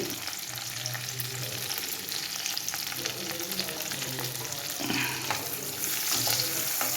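Ginger, garlic, shallots and curry leaves fry in oil for pork ularthiyathu, a dense crackling sizzle broken by occasional spoon scrapes and clinks. The sound is close and steady, slightly louder toward the end, with no voice.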